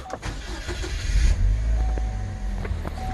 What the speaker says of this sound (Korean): 시동을 켜고